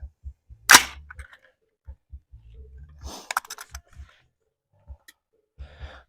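An Army Marksmanship Unit SDM-R rifle with a Douglas 1-8 heavy barrel fires: one sharp, loud crack rings out early, followed a couple of seconds later by a cluster of fainter snapping reports in otherwise quiet surroundings.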